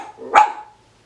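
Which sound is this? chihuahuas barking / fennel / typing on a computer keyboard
chihuahuas barking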